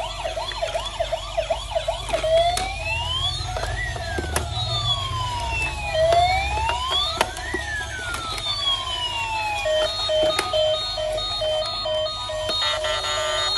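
Toy ambulance siren wails in repeated rising and falling sweeps, loud and close, with a higher-pitched electronic tone layered over it and small clicks and knocks from the toy being handled.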